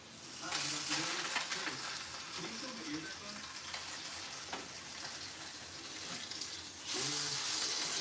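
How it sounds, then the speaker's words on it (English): A freshly flipped steak sears in a hot pan with a continuous, fairly quiet sizzle, punctuated by occasional clinks and scrapes, and the hiss swells again toward the end. "Alright, time to flip the steak."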